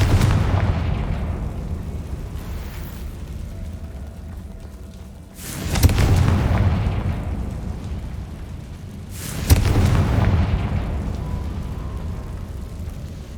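Confringo spell blasts in a video game, two heavy booming explosions several seconds apart, each a sharp crack trailing into a long rumbling decay over a low droning background.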